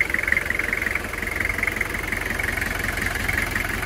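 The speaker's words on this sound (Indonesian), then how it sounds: "suaranya khas Kijang 2L diesel, yaitu seperti ini" A 2002 Toyota Kijang LGX with an original 2L diesel engine idles steadily, a close, even knocking rumble with a constant rhythmic clatter.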